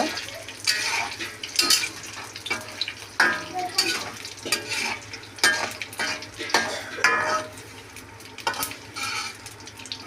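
Peanuts frying in a pan for mango pulihora, stirred with a metal spoon: repeated scraping and clinking strokes over a low steady sizzle, close and fairly loud, with no talk.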